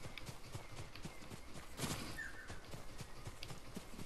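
A horse galloping in the Ghost of Tsushima game, its hoofbeats a fairly faint, rhythmic thudding running through the whole stretch, blended with soft ambient game sound and no talk.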